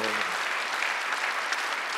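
Congregation applauding together during a Sunday worship service in a church, a steady dense wash of clapping from many hands that stays even and fills the whole stretch.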